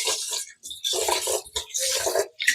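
Rice is washed by hand in a pot under tap water. The splashing and swishing come close up in uneven bursts with short pauses, and no one speaks.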